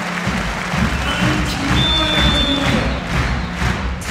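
Spectators in a volleyball hall in Schwerin applaud during a cup semifinal between Schweriner SC and VC Wiesbaden, giving sustained clapping with some cheering and occasional thuds, loud and reverberant throughout.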